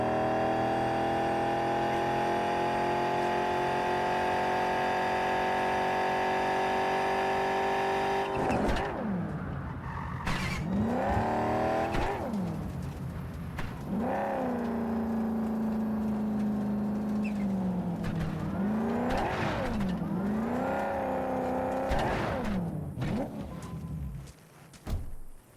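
Video game car in Cyberpunk 2077: a steady engine drone gives way to repeated accelerations and gear-shift swoops, with engine pitch rising and dropping as the vehicle drives, moderately loud with no talking.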